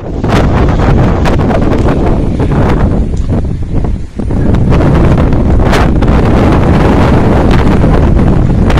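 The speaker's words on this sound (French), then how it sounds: "Vous entendez le vent?" Heavy wind buffeting a microphone on the Camino Francés pilgrimage trail, a loud continuous rumbling roar with one brief lull midway.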